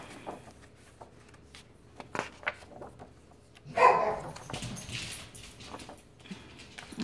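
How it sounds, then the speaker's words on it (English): Indoor dogs barking in a few short bursts at a sound outside, with one louder bark cluster near the middle and quieter yips and shuffles around it. "they keep hearing a dog outside, so they're just going to keep barking and barking"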